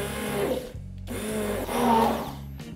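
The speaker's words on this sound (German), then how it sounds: "sollen wir jetzt 200 Gramm von den Erdbeeren zusammen mit dem Zitronensaft und der Milch pürieren" A blender purees 200 grams of strawberries with lemon juice and milk for strawberry ice cream, a loud, close whirring motor that cuts out briefly and restarts in short pulses, with no voices over it.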